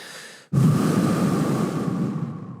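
A deep breath during an active recovery weightlifting session: a single long, close exhale that starts abruptly after a soft intake and fades slowly over two seconds.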